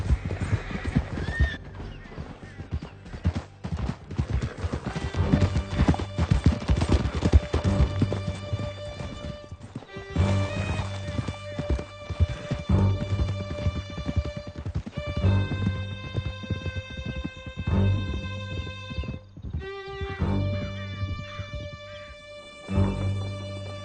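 Horses gallop in the Red Dead Redemption 2 video game with fast, continuous hoofbeats, loud and close, along with several whinnies and neighs over a game soundtrack.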